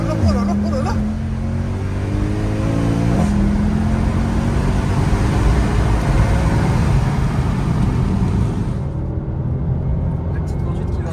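A Mercedes C63 AMG W204 with its V8 engine rumbles loudly in a garage, a deep, rising rev with strong low-end drone that holds steady before easing off near the end, with voices faintly underneath.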